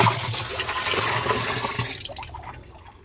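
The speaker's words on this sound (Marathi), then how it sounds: "आता आपण हे यामध्ये ओतणार आहोत बॅरेलमध्ये" A liquid pesticide mixture pours and gushes loudly into a barrel at first, then tapers off and fades to quiet near the end.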